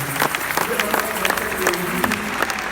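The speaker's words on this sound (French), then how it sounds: "de bien vouloir vous tenir debout et d'applaudir" An audience at a funeral celebration gives a moderate, scattered round of applause, with individual claps spaced out and a murmur of voices underneath.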